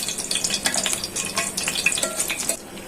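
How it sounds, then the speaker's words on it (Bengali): Dried chilies frying in hot oil give a close crackling sizzle with scattered pops and spits throughout, easing off toward the end. "এখন মরিচটা তেলে ভেজে নিতেছি।"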